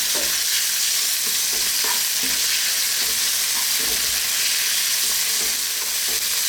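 Garlic and ginger fry on fairly high heat in a pan with a loud, dense, continuous sizzle and occasional soft stirring scrapes up close.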